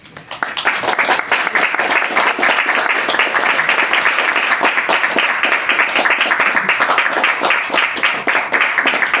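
Audience applause after a poetry reading at a small press event, sustained dense clapping from a room of listeners, steady and close, with no voices over it.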